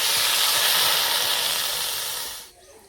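Water hits a hot wok holding chickpeas and erupts in a loud steamy hiss that holds for a couple of seconds, then drops away abruptly to near quiet.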